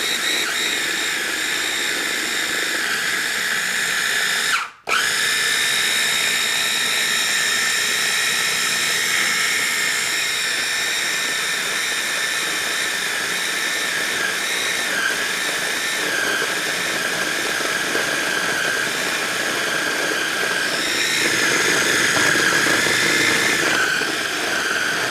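A food chopper whirs steadily for a long stretch as it mixes craquelin dough, a loud, high motor whine with a short pause near the start, then continuous running with no talking.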